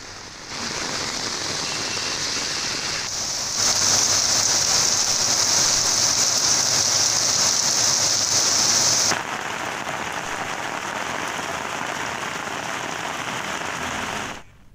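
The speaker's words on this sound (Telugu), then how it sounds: "హైదరాబాద్ లో వర్షం దంచుకొడుతుంది." Heavy rain pours steadily in Hyderabad, a dense and loud wash of drops on surfaces that surges partway through and then eases slightly.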